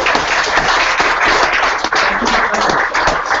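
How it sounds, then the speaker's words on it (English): An audience at an AngularJS talk in Boston applauding, a dense, steady wash of many hands clapping that fills the room at an even level. "so it's just a round of applause."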